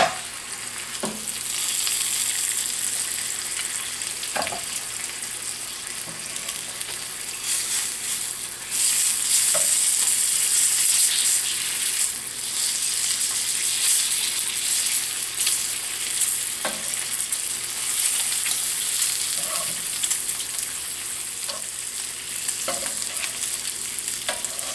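Streak o' lean pork sizzles steadily in a pan over lowered heat, a soft continuous frying hiss with occasional faint clicks and pops throughout.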